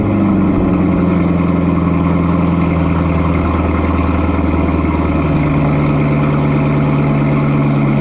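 A C7 Corvette ZR1 engine with an AWE exhaust turns over on a cold start, then settles into a loud, steady rumbling idle close by with a slight shift in pitch midway.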